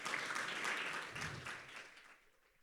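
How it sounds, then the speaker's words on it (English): Audience clapping for Valdemar Velasquez at a food and health summit: a faint, fairly distant round of applause that holds steady, then thins and fades away toward the end. "Please give him a round of applause."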